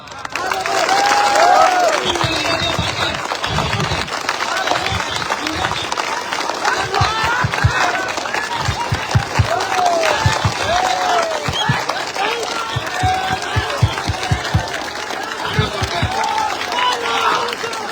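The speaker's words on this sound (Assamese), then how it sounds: "অতি ভাল হয় একেলগতে হাত তালি এটা দিয়ক" A crowd at a political rally applauds, with dense clapping rising early and continuing in bursts alongside a voice addressing them over loudspeakers.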